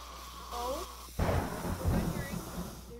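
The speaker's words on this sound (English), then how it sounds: "Here's the thunder." Thunder in a zombie survival video game: a sudden deep crack and rumble that rolls on loudly after a moment of quieter ambience, with faint game sounds around it.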